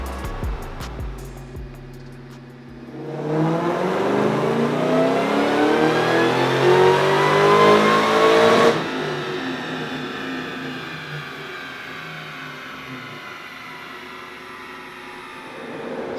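A supercharged 2003 Ford Mustang Cobra Terminator running on E85 revs hard on a dyno, the engine and supercharger whine climbing steadily for several seconds before an abrupt lift-off into a lingering idle, loud and close with no talk.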